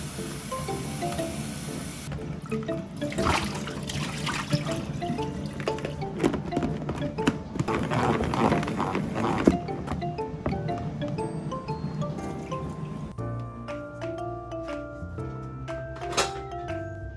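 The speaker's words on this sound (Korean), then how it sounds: "닭고기가 구워지는 동안 샐러드 야채를 씻습니다." Tap water runs steadily from a kitchen faucet while salad vegetables are rinsed by hand, with splashing and clattering through much of it, then quieter kitchen clinks near the end.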